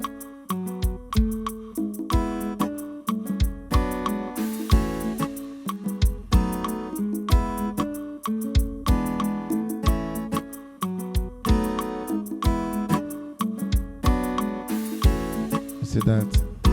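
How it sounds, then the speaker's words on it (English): Steel guitar voice on a Yamaha SX 600 keyboard playing a looping beat pattern, with plucked, twangy notes over punchy drum hits in a steady, repeating rhythm, fairly quiet and with no talk. "Let me use steel guitar."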